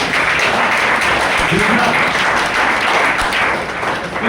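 A hall audience at a business plan show breaks into loud, dense clapping, a continuous crowd applause holding steady for the whole stretch with scattered louder claps.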